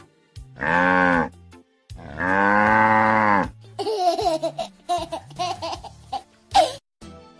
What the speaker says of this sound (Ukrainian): По дорозі йшла корова, круторога і здорова. Му та му вона ревіла